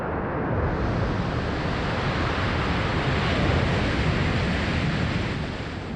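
Water deluge at a Starship launch pad sprays in a dense, continuous roaring hiss, loud and steady throughout like heavy surf, with no voices.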